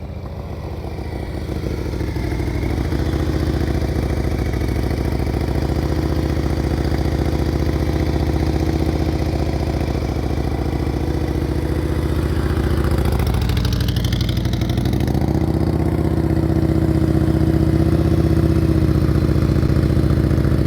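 A motorcycle engine runs steadily at low revs during slow-speed riding drills, with a smooth throttle blip midway and a constant close, even drone throughout.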